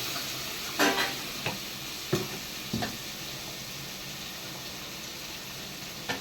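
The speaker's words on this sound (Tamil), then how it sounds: "நல்லா வதங்கட்டும்" Masala and turmeric sizzle steadily in a hot pan for fish curry, with a few scraping, stirring knocks breaking through the constant hiss.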